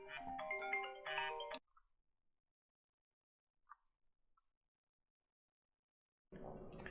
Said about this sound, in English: my phone is now going off as well